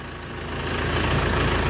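Dongfeng 404 tractor driving in four-wheel drive: a steady low engine drone with a faint pulsing rhythm, fairly near and building slightly in loudness over a short stretch.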